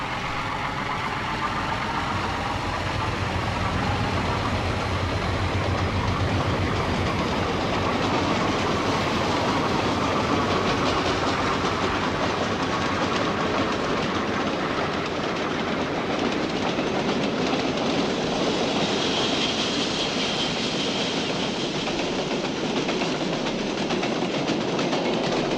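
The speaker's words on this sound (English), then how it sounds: "A brace of RS-3s lead an eastbound freight to Port Jeff." A pair of ALCo RS-3 diesel locomotives leads an eastbound freight train toward Port Jefferson on Long Island, a steady loud engine roar with wheel clatter that carries on unbroken throughout.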